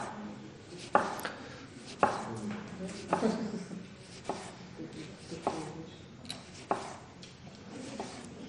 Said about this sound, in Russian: срезаем попочку и нарезаем как можно тоньше